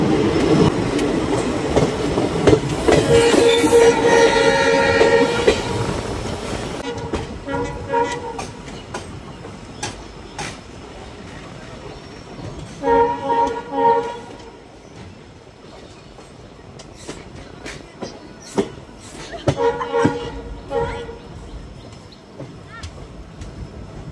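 A small local train creeps slowly along a line in Assam, between Pancharatna and New Bongaigaon, where track work is going on: a loud rumble and clatter that surges in bursts, with a horn-like tone early, and a voice talking over it.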